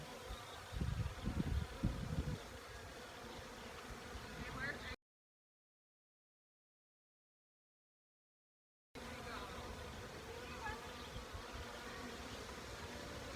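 Bees buzz in a constant low drone around an open beehive during an inspection, faint and close, with a few louder thumps early on and a silent gap in the middle.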